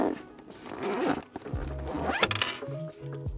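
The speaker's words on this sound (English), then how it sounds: "And zip the bag back up." A camping bag being zipped shut after three straps and three legs of a Camplux Nano Air2 outdoor heater are packed inside, a close, scratchy run of zipper teeth lasting a couple of seconds over rustling fabric.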